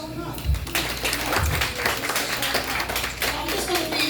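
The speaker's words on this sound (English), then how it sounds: "give yourself a round of applause just for showing up" Audience at a wellness panel event clapping, scattered broadband claps across the clip, moderately loud, with talking in the room over them.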